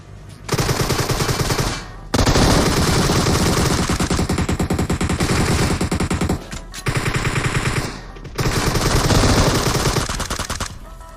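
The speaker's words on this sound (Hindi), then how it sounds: "मैं बंदे को गोलियां मारता हूँ और वापस कवर में आता हूँ" Rapid bursts of automatic gunfire from the video game PUBG Mobile, loud and close, with brief pauses between long sustained volleys.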